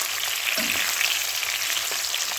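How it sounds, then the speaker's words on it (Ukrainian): Food fries in a sizzling pan on a Ukrainian homestead during pork preparation after a hog slaughter, giving a steady, loud crackling hiss with small pops throughout and no voices. "Для тих, хто любить шкварчання сковородочки."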